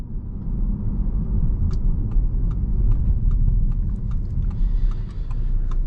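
A 2021 Audi TTS cruises comfortably on the road, its low engine and road rumble steady inside the cabin, with faint small ticking sounds scattered over the drone.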